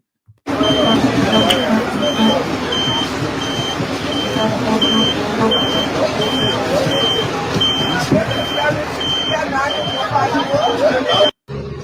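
City bus with a digital fare-payment system running, steady broadband engine and road rumble close by with a repeating high warning beep throughout, ending abruptly.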